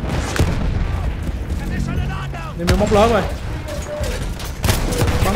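Rapid gunfire in the World War I shooter Battlefield 1 played on PC, repeated bursts of shots and booms mixed with game dialogue, with players talking over the action.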